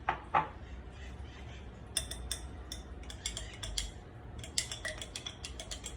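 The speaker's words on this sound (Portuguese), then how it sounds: "Então eu vou colocar 2 colheres de sopa do miso." Two spoonfuls of miso paste go into a dish during home cooking, heard as a few light metallic clinks and scrapes of a spoon against the bowl, sparse and close, with quiet gaps between.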